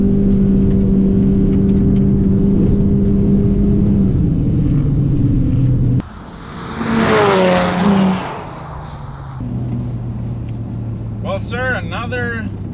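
A tuned Honda Civic 1.5T CVT and a tuned BMW 330i xDrive accelerate in a race, a sustained engine drone and whir that shifts pitch, then a rising rush as a car passes, with people talking throughout.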